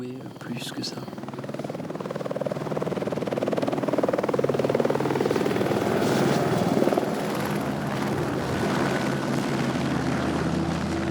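A helicopter flies nearby in the mountains of Madagascar, its rotor beat and engine roar steady and loud, swelling slightly midway before holding level.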